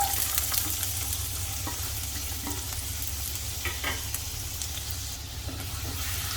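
Chopped onion frying in about two spoons of hot oil, an even, continuous sizzle close by with occasional light stirring taps, no one speaking.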